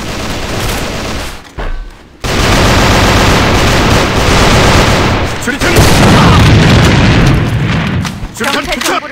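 Grenade blasts in the military shooter A.V.A on the Dock map, loud booming explosions amid sustained gunfire, with a brief drop-out before the noise resumes at full strength and a radio-style voice calling out over the combat.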